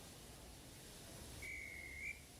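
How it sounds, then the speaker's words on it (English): Railway guard's whistle blowing once, a thin steady tone held for about half a second, faint over a quiet hiss. "the guard's whistle blew and the two engines set off"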